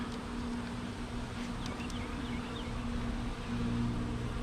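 Honey bees around a depleted hive give off a faint, steady buzzing hum, with a few brief higher whines of individual bees passing close.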